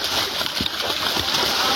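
Water splashing in a village fish pond, a continuous broad wash with a few sharper splashes, close and fairly loud.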